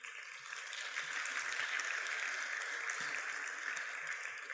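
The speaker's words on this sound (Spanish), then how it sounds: "Le damos un aplauso al Señor." A church congregation applauding during a Spanish-language sermon, steady clapping from many hands at moderate distance that holds for several seconds and fades slightly at the end.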